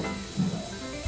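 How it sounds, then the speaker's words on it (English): A dish sprayer hisses steadily at a commercial restaurant sink while rinsing dishes, a continuous close spray lasting about a second with no talking. "Spray these nice and clean."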